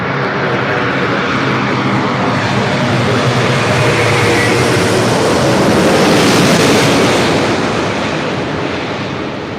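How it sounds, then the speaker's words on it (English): A Delta Airlines A330neo heavy jet arriving at LAX from Tokyo Haneda roars loudly and continuously as it approaches, the broad engine rumble swelling and then easing slightly toward the end. "This is Delta Airlines Flight 8 Heavy coming in from Tokyo Haneda"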